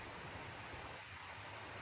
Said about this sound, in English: we're coming to the waterfall now